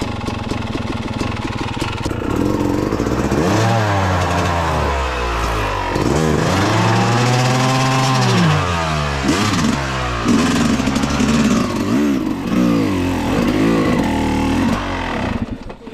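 A trail motorcycle engine revs hard on a muddy mountain trail in Aurora, loud and close, with repeated rising and falling whines as the bike strains and bogs.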